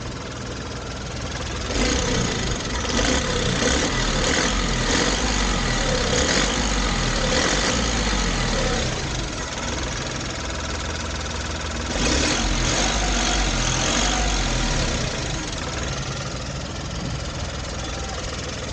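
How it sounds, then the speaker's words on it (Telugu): A loud, rough motorbike engine with a broken silencer runs close by, revving up twice with a harsh, rattling exhaust between steadier idling stretches. "మీకు ఇంజన్ సౌండ్ కూడా మారిపోయింది మొత్తం"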